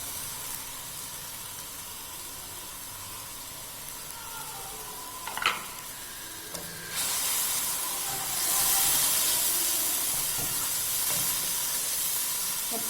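Green chillies sizzling in a pan while aloo matar cooks: a steady frying hiss, a brief clatter midway, then a sharper, louder sizzle as the chillies land in the hot oil.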